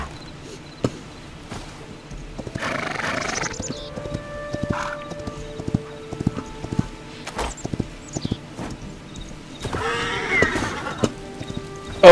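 Horse hooves clip-clopping in the Hytale video game: scattered sharp hoof clops at an uneven pace, with occasional whinnies and other game sounds between them, heard alone without talk.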